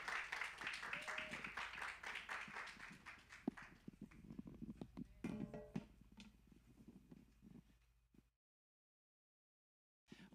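A church congregation applauds, a steady dense patter of many hands clapping that thins out gradually before the sound drops away.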